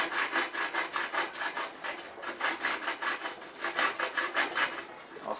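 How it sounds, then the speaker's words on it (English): A knife cutting a small wooden plug, rhythmic back-and-forth rasping strokes repeating steadily, close and moderately loud with no talking. "use your knife again, like I did in the earlier video, and then I'll just gently do this"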